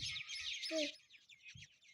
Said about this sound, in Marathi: वर पोपट आहे